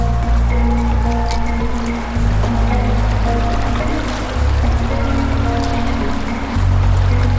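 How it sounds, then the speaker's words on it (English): River water flowing steadily in grizzly bear territory, a continuous close wash of trickling and gurgling with a low rumbling undertone throughout. "bit more flow in the river here."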